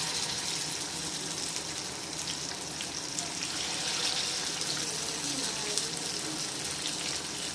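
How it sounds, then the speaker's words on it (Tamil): Masala-coated saala fish drops into hot oil in a pan and fries with a dense, even, hissing sizzle, like rushing water, that holds steady at moderate loudness. "பாத்திரத்தை காய வச்சு எண்ணெய் ஊற்றி வச்சுருக்கோம் இப்போ நம்ம வந்து மீனை போடுறோம்"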